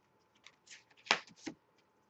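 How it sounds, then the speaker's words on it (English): A Fairy Tarot card deck is shuffled in a few soft, papery riffling bursts, close and quiet in an otherwise still room. "As I shuffle the deck"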